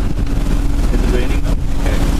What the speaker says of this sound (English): Whoa, the wind is really strong.